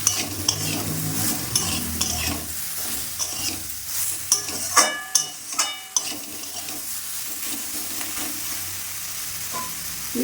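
Vegetables for bitter gourd shukto being stirred in a hot pan, a soft sizzle broken by a series of scraping, clattering spatula strokes at close range, with music faintly underneath.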